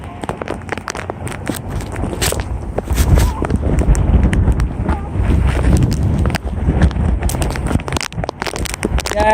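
Hurricane Irma winds in Florida in 2017 batter the microphone in strong, irregular gusts, with loud rumbling bursts and brief lulls.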